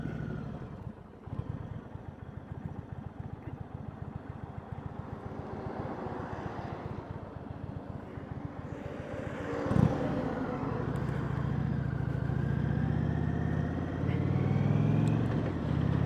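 A Springfield Darkhorse motorcycle being ridden, its engine rumbling and revving with shifting load, a steady low drone rising in pitch through acceleration, with wind noise and no talking.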